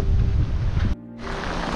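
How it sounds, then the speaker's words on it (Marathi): Strong wind buffets the microphone in a gusty roar on a rainy monsoon trek through foggy Andharban forest, dropping out briefly in the middle before rushing back. "वारा आत्ता वाढला आहे"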